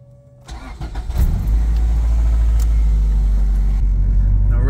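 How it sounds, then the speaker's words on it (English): An Acura Integra on new wheels starts up and settles into a steady engine drone at the start of a test drive, loud and close after a brief quiet moment. "We're gonna give it a test drive and see how it does."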